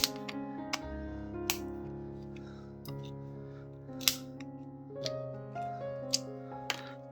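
Metal shears cutting plastic model parts, a few sharp close snips and clicks over soft background music, with no talking.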